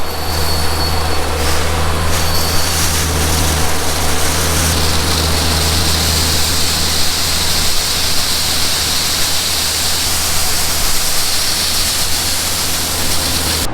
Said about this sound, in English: Listen to that Cummins engine. That's what's in that New Holland.